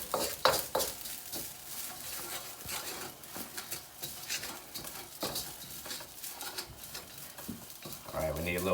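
Rice stir-fried in a pan over turned-down heat, with continuous scraping, stirring and light sizzling, a spatula clattering steadily against the pan up close.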